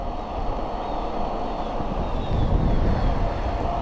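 A Tongsheng TSDZ8 mid-drive motor on a Schwinn Axum Comp X e-bike runs on by itself with its throttle stuck, a steady close whine and drone over rolling wind rush that swells slightly toward the end.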